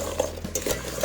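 Root vegetables being stirred with herbs and a little olive oil, a brief close clatter of a utensil scraping and tapping against a bowl.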